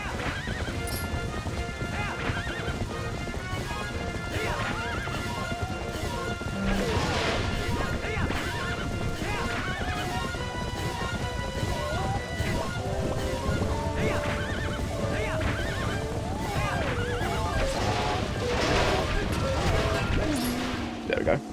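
Repeated horse neighs and steady clip-clopping hooves from a horseback battle in The Legend of Zelda: Twilight Princess HD, mixed with crashing hits and game music while someone talks over it.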